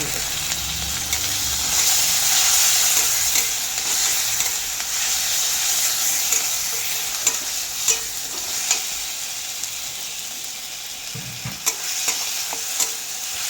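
Ginger and garlic frying in a pan while being stirred, giving a steady close sizzle with occasional scraping clicks of the spoon.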